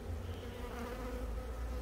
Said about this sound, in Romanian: O albină s-a pus pe camera.